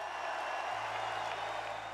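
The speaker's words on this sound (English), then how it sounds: "received a huge ovation from the home crowd" A home crowd at Assembly Hall gives a sustained ovation. The applause is dense and steady, with the cheering of a large arena crowd, and it stays loud for the whole moment.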